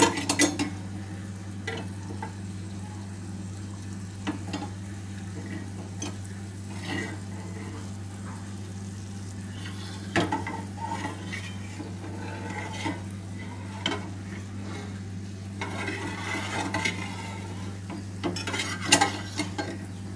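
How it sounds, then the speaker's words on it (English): Sugar caramelizes in a pan over the lowest flame for South Indian filter coffee, a faint steady sizzle with a low hum beneath and occasional light stirring scrapes and clinks across twenty seconds. "You can see that sugar is beginning to caramelize."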